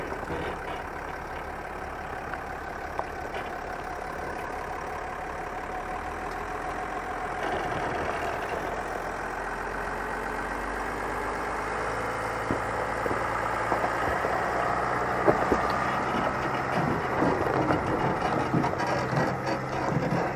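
A 2024 Chevrolet Silverado ZR2 pickup crawling off-road in 4-low up a steep hill, engine idling low and steady with faint mechanical creaks and squeaks from the suspension, distant and quiet throughout.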